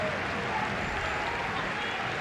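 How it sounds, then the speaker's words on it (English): A football crowd at a Crewe Alexandra versus Southend play-off semi-final gives a standing ovation to a substituted 17-year-old player, a broad, steady wash of applause and crowd noise at a distance, unbroken across the moment. "he's getting a standing ovation from this crowd"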